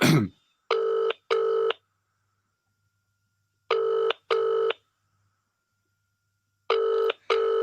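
Telephone keypad tones dial out in three pairs of short, loud beeps separated by silent gaps, as a phone call is placed to reach a prize winner.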